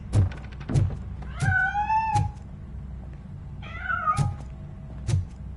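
A cat hiding inside a piano in the RoboCop game on PS5 lets out several drawn-out meows, some rising into a whiny caterwaul, between sharp rhythmic thunks and knocks, close and clear with no talk.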